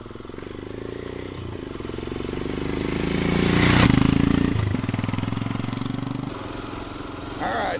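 A Royal Enfield Himalayan motorcycle pulls away and rides on a US road, its engine note steady then swelling into a louder rev near the middle before settling back to a constant drone.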